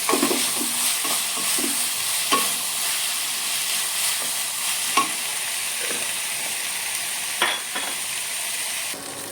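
Chicken being sautéd with salt in a pan for pepper chicken, giving a steady close frying hiss with occasional soft stirring scrapes and clinks, no voices.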